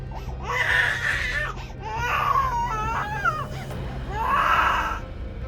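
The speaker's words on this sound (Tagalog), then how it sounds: "Umiiyak na sanggol." A baby cries as a sound effect in a folk horror tale, with loud wavering wails rising and falling in three bursts over a low steady hum.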